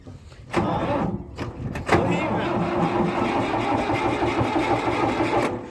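An engine is cranked and catches after a couple of sharp tries, then settles into a steady, fairly loud chugging idle nearby, with voices talking over it.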